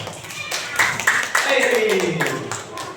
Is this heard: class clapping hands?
yes